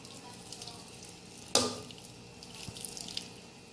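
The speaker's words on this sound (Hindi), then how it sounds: "अब ये जो दूध और येलो कलर मिक्स कर रखा है ये ऊपर डालेंगे।" Milk mixed with yellow food colour is poured over layered chicken biryani in a short soft splash that quickly fades, faint against a quiet background.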